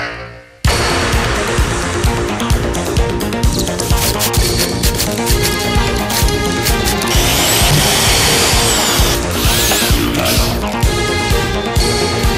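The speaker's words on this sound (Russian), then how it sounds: "Приступим к сверлению дыр." A power drill bores holes in the base plate of a small homemade flying robot, a loud continuous whining drone with rattling bursts and shifting pitch lasting several seconds, no speech.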